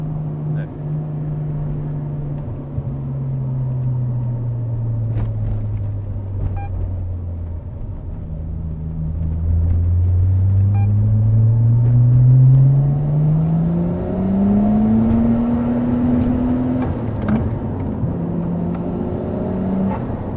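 Cabin of a Nissan R32 GT-R cruising onto an expressway, with a steady engine drone rising and falling through gear changes and acceleration, road and wind noise throughout, while people converse inside the car.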